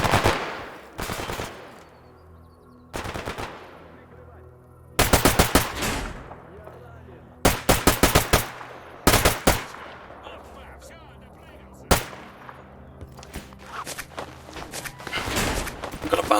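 Gunfire in the game S.T.A.L.K.E.R.: Anomaly: loud, close bursts of automatic fire and single shots in irregular clusters, with quieter footsteps and shuffling in the gaps between them.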